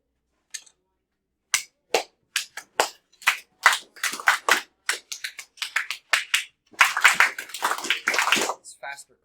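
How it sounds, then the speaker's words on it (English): Rapid bursts of hand clapping in a middle school math class, sharp claps coming faster and denser toward the end, close and fairly loud with no talk over them. "It's faster clapping than I knew humans could do."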